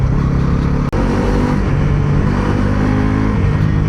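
A Bajaj Pulsar NS400Z naked street motorcycle with a bi-directional quickshifter holds a loud, steady engine drone close by, broken by a sharp momentary cut as a gear shifts.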